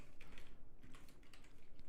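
Quick, light keystrokes clatter on a computer keyboard in a brief, uneven burst, close and fairly quiet, with no voices.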